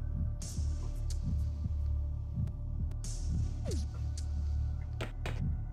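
A throbbing heartbeat effect pulses steadily in Shin Megami Tensei: Persona, low repeated thumps at a slow even rhythm over a constant hum, with a few brief higher bursts layered on top.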